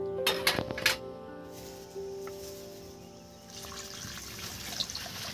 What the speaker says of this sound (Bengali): জল একটু আমি বেশি করে দিচ্ছি